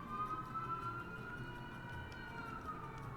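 A steady wailing fire-truck siren in Final Fantasy XI, faint and distant, holding a sustained tone that slowly rises and falls under a low background hum.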